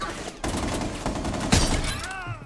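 Rainbow Six Siege firefight: rapid bursts of gunshots crack loudly and close, a sharp louder blast near the middle, with clattering and game effects around them.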